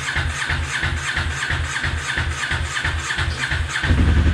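A Honda CB 500 S motorcycle engine cranks over with a rhythmic, repeated chugging, then catches briefly and dies with a louder final burst, close up and without voices.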